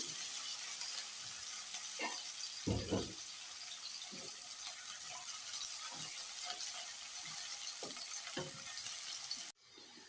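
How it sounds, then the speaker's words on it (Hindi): Onions fry in hot oil in a pan, giving a continuous soft sizzle with occasional louder stirring scrapes and clinks, ending abruptly near the close. "प्याज को लाल होने तक भूनूंगी।"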